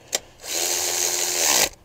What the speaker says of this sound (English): All right, we got a drill.